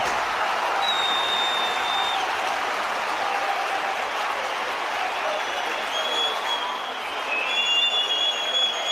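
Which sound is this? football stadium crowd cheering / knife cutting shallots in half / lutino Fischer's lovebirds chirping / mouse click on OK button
football stadium crowd cheering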